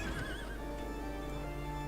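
A Garuda horse mount in the Final Fantasy XIV game gives one wavering whinny near the start, followed by steady game ambience and faint clip-clop movement, with no talk.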